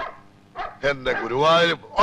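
A dog in a film scene gives a few short barks and yips close by, mixed in with speaking voices.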